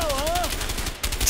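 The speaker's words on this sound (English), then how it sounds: "I shot you in the butt." Rapid gunfire in the video game A Way Out, a quick run of sharp, evenly spaced shots over game noise, ending in a louder burst.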